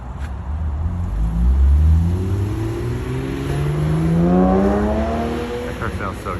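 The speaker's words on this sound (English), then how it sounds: "That car sounds so good." A Porsche engine revs and accelerates hard, its pitch sweeping upward through gears as the loud, rising roar builds and then eases off, with a person speaking briefly.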